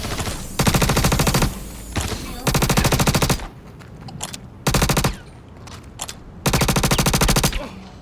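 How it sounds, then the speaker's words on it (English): Bursts of automatic gunfire strike the player's ship in Star Citizen, loud and close, arriving as four or five sustained volleys with short quiet gaps between them. "they're shooting at my ship."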